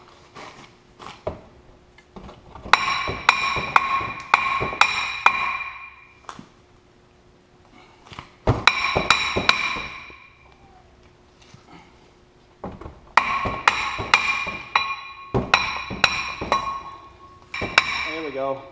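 A hammer repeatedly strikes a Ford Fusion brake rotor during a brake pad and rotor replacement, with sharp metallic clangs in rapid bursts of several blows and bright ringing between short pauses, close and loud.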